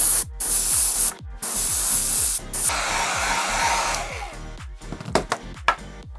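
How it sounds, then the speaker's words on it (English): An airbrush sprays primer onto miniatures in loud, hissing bursts separated by brief pauses, then gives way to softer sputtering hiss and a few faint knocks near the end. "I'm priming these guys with my airbrush"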